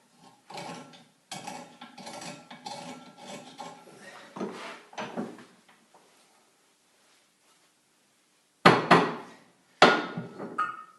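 Scrubbing corrosion off a part during an Aries rebuild: repeated rough brushing strokes in a steady back-and-forth rhythm, close and fairly loud, then a pause and two sharper bursts of scraping.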